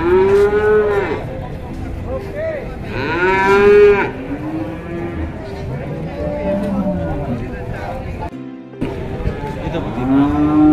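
Cattle at a livestock market moo repeatedly, loud close bellows overlapping one another, with people talking throughout amid the general hubbub of the market.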